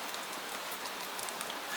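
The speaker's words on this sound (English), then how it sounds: "You can hear rain on the window, rain on the roof, rain in the gutter, rain tapping the canal below." Steady rain at night in Venice patters on windows, a roof and a canal, a dense, even hiss with faint scattered drips and no voices.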